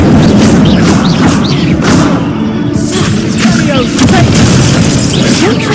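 Incendio fire spells blasting in the Hogwarts Legacy video game, a dense run of loud, booming bursts over a continuous roar of game noise and music, with a faint voice mixed in.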